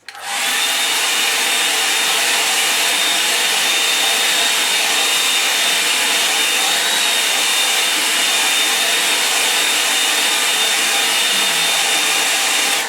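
Hair dryer blowing on a watercolour painting, a loud, constant close-up roar with a steady high whine that runs unbroken for the whole stretch, starting abruptly and cutting off at the end.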